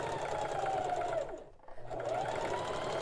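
Sewing machine stitching pillow pieces cut from a Christmas tablecloth, a fast steady whirring hum that pauses briefly in the middle and then resumes, close and fairly quiet.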